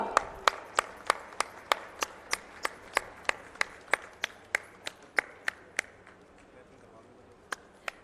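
A ceremony audience claps for Haryana Chief Minister Manohar Lal at a national highway project inauguration, heard as sharp, evenly spaced claps that sound like a single nearby pair of hands rather than a crowd, fading out near the end.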